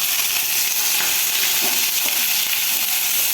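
Curry leaves and three dried red chillies sizzle in hot oil for a South Indian dish, a loud, steady crackling hiss close up with no voices.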